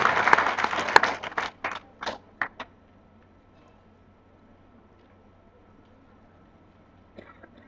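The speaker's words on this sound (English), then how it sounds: "So big round of applause." Applause at a BICON 2015 conference: a short burst of crowd clapping that thins to a few scattered claps within about three seconds, then near silence with faint room noise.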